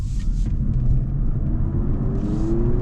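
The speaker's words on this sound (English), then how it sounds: "And now we're going to try sport mode." A 2026 Honda Civic Hybrid hatchback accelerates in sport mode, heard from inside the cabin as a steady low rumble with a rising engine whine climbing in pitch, loud and continuous.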